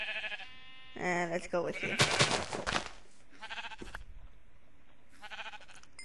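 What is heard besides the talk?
sheep bleating in the video game Minecraft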